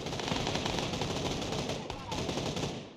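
Rapid automatic gunfire from a PUBG match on PC, with dense, loud bursts of shots firing continuously over about three seconds and a brief gap near the middle, with voices mixed in.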